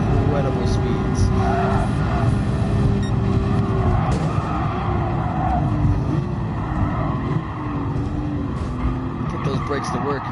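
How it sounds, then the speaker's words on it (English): Race car with a turbo accelerating hard on a track at very high speed, a loud continuous engine drone with rising and shifting pitch, heard close throughout alongside excited talking. "Oh my god, you hear that turbo?"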